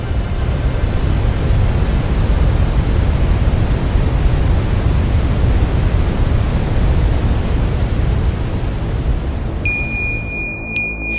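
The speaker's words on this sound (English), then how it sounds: "Countless waterfalls and the mighty BUDHI GANDAKI river echo without pause" The Budhi Gandaki river and countless waterfalls roar along the Manaslu Circuit trek in the mountains. The rushing noise is loud, steady and unbroken, and a short ringing chime sounds near the end.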